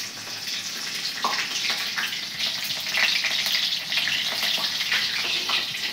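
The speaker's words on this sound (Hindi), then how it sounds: "अब इसमें मिर्च डालें" Green chilies hitting hot mustard oil with fenugreek seeds in a pan while cooking a drumstick curry, a loud hissing sizzle that swells and crackles steadily for several seconds, no talking.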